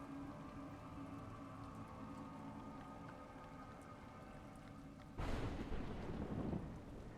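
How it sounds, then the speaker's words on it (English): Steady rain hisses in the video game A Juggler's Tale. About five seconds in, a loud crack of thunder breaks out and rolls into a rumble over the continuing downpour. "If I could go inside, it would be better. Because then I wouldn't get rained on."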